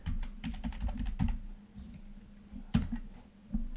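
Typing on a computer keyboard while entering Excel column headers, a close, quiet run of irregular key clicks in short bursts with a louder tap near the end, and no talking.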